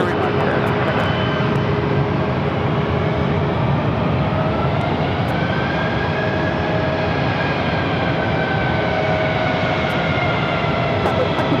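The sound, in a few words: JetBlue Airbus A321 airliner taxiing at Phoenix airport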